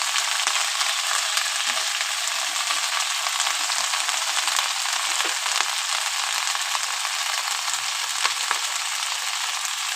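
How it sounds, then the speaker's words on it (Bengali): Bottle gourd leaves and green chillies fry in a pan, giving a loud, steady sizzle that holds evenly throughout with faint crackles and no voices. "চলো আর ভালো করে একটু ভেজে নিই।"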